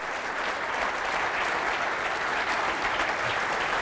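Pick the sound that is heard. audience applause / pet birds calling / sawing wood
audience applause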